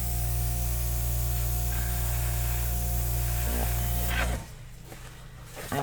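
An airbrush sprays air in a steady, loud, continuous hiss that cuts off sharply near the end, leaving quieter room noise.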